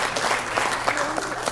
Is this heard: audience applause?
yes